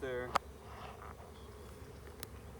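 A swarm of honey bees gives a faint, continuous buzzing hum. A short voice and a couple of sharp clicks sit on top.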